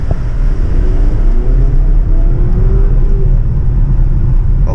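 A Jeep accelerates on an open road, its engine a loud, close, steady rumble and whir with a gradual rising pull, no voices over it.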